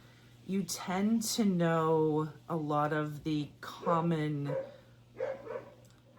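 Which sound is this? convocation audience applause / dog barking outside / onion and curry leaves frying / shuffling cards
dog barking outside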